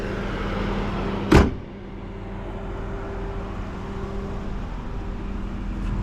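A Lincoln Town Car door shuts with a single solid thud after a soft rustle, leaving a quiet, steady interior hum with no talking.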